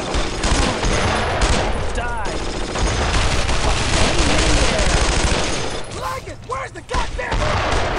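Machine gun suppressing fire in the WWII shooter Brothers in Arms: Road to Hill 30, heavy and continuous throughout, with voices shouting over the constant rattle.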